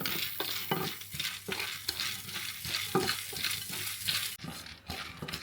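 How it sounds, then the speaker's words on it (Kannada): Ingredients being dry roasted in a pan for a ridge gourd gojju, with a spoon scraping and stirring in a steady rhythm of close, gritty scrapes over a faint sizzle, no voices. "ಸೊ ಒಂದು 2 to 3 ಮಿನಿಟ್ಸ್ ಇದನ್ನು ಸ್ವಲ್ಪ ರೋಸ್ಟ್ ಮಾಡ್ಕೋಬೇಕು"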